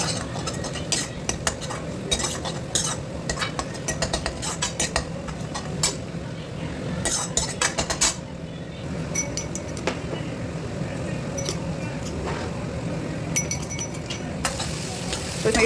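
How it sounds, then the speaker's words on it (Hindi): Onions frying and being stirred in a pan at home, with steady sizzling and frequent metallic clinks of a spoon scraping the pan throughout, close and continuous. "ये प्याज काट के मैंने इसमें ये प्याज भून रही हूँ"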